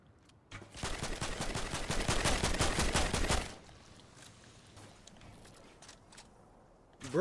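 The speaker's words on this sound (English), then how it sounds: "one of them must have shot up my guy, Cluck." Rapid automatic gunfire in the Fortnite video game rattles in a dense, loud burst for about three seconds, then fades to quieter scattered shots and game noise.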